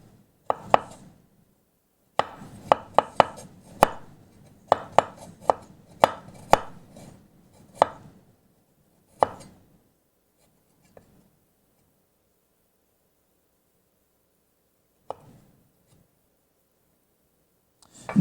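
Knife chopping fresh ginger on a cutting board: bursts of quick, crisp, close strokes in uneven runs, then long pauses and a few isolated taps, with no talking.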